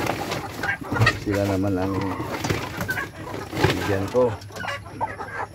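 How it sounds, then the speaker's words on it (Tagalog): Several chickens clucking and cooing close by, mixed with someone talking over them. "Tapos dito na naman ako sa mga alaga kong manok mga idol."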